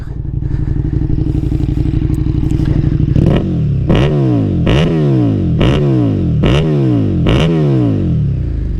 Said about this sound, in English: Just listen to this fucking pipe.